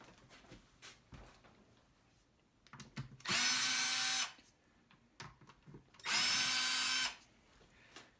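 A power screwdriver whirs in two bursts of about a second each, backing Phillips screws out of the bottom cover of a Recroom Masters Pro Edition game controller, with quiet handling clicks and taps before and between them.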